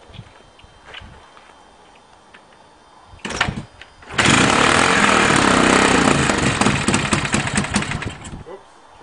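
A 1978 Honda XL250 motorcycle engine firing up on a cold start, a brief cough then a loud, close, steady single-cylinder run with choke, easing slightly toward the end.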